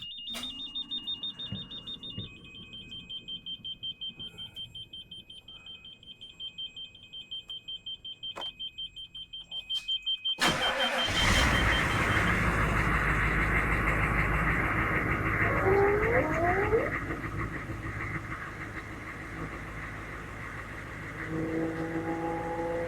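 A 6.5 litre diesel engine in a 1999 Chevy Suburban 2500 starts after a steady beeping chime, then runs with a loud, even low rumble close by.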